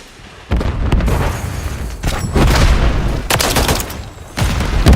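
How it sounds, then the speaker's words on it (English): Heavy booming blasts in a shooter video game, a grenade explosion among several loud rumbling bursts and gunfire, close and powerful, with sharp onsets at intervals across the clip. "Throwing grenade!"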